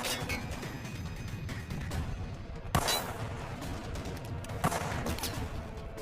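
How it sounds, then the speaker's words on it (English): Rifle fire at a distance, two sharp cracks heard several seconds apart above a steady rumbling background, muffled and far off, with no talk. "is that rifle work over there?"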